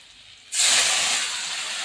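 Water is poured into a hot pan of tilapia fish curry, setting off a sudden loud, close hiss of steam and sizzle that keeps on steadily after a quiet start.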